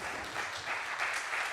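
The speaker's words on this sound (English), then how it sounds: "let's give a really warm round of applause for Conor." A small audience at a programming conference applauds the speaker, with brief, steady clapping from a modest crowd that stays even throughout.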